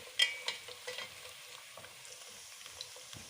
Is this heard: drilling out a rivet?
no